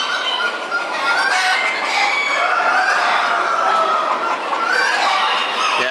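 Hens and roosters clucking and squawking continuously, a busy overlapping chorus of several birds close by with no pauses.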